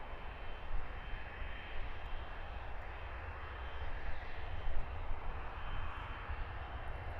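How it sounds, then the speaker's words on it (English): A large DHL cargo freighter jet departs Luton Airport, its engines producing a steady, broad roar that swells slightly and holds from moderate distance throughout. "Let's have a nice big DHL freighter departure."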